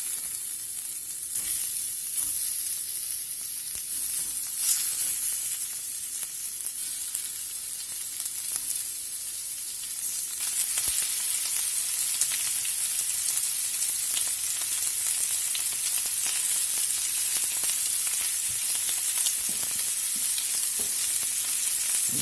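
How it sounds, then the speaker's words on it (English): Steak bites laid into butter in a skillet fry with a loud, continuous sizzle that swells partway through as more meat goes in, close and steady with no voices. "Throw just a little pat of butter in. I'm going to start laying the steak in."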